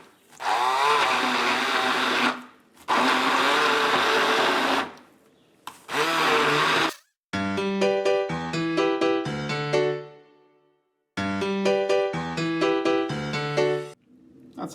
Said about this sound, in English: we will use a handheld blender